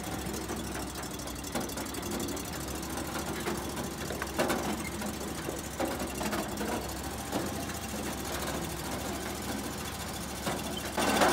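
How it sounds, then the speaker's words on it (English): A Vanguard engine on a Hakki Pilke Raven 33 firewood processor runs at a steady idle, a continuous mid-pitched mechanical hum with light rattling and occasional knocks, heard up close throughout. "You can see that as soon as I start the engine up, the outfeed conveyor will turn."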